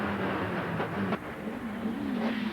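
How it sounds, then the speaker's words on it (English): Tony Longhurst's Toyota Carina race car at Phillip Island in the 1994 Australian Manufacturers Championship, its engine a steady, rough-edged drone in the background with a rising and falling pitch as it winds up. "the noise you can hear in the background there is coming out of Tony Longhurst's car"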